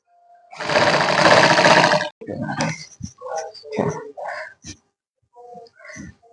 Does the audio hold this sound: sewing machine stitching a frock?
yes